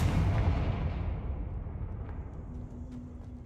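A Confringo fire spell blast in the video game Hogwarts Legacy, a heavy booming burst up front that rumbles and fades away over a few seconds.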